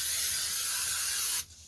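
Spray adhesive hisses steadily from an aerosol can as it is applied to board for a wall-shielding installation, a close, continuous burst lasting well over a second before cutting off abruptly.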